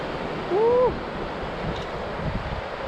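A fast-flowing river over a rocky stretch nearly freezing, with steam rising off it, gives a steady broad rushing wash close by, mixed with wind noise, and a brief voiced exclamation rises over it early on.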